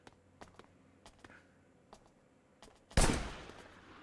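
Gunshots in the game Wanted: Dead: a string of sharp, spaced cracks over quiet background, then one much louder close blast that rings out and decays.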